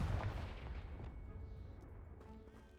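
A Confringo blasting spell in Hogwarts Legacy blows apart a pile of debris, a deep booming explosion at the start that rumbles and fades out over a few seconds, fairly quiet overall.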